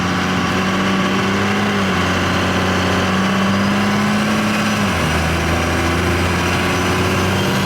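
A twin-turbo Cummins diesel truck engine in need of new injectors runs at quarter throttle, a loud, steady, close-up droning rumble with a slight dip in pitch partway through.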